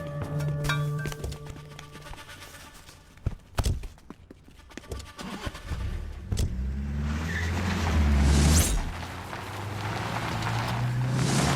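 A car starts moving and pulls away at close range, its engine rising into a loud rumble near the end, preceded by several sharp thumps and knocks with no speech.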